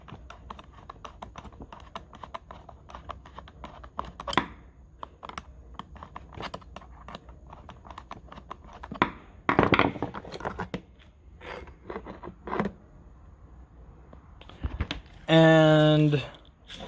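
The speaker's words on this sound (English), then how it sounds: "You gotta push this against here until you hear a nice little click." A chainsaw chain tensioner is pushed and adjusted until it clicks: a steady run of small, close mechanical ticks and clicks, broken by louder handling knocks and a scrape near the end.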